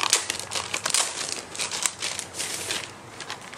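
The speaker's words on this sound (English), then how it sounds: "I love the crinkliness that the paper has." Sheets of thin Tomoe River paper crinkle and rustle continuously as they are handled close by, with crisp crackly bursts and small rhythmic pulses throughout.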